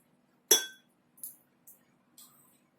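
A spoon clinks against a glass half full of water while a mixture is stirred: one bright, sharp ring followed by three lighter taps, spaced apart in an otherwise quiet room.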